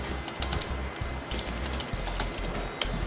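Rapid typing on a computer keyboard connected to a Samsung Galaxy Tab, close and steady clicking keystrokes with a few brief pauses, no voices.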